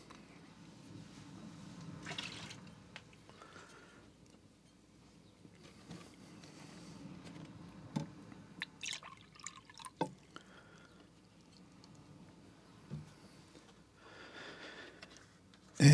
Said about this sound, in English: Let's change out the water one more time.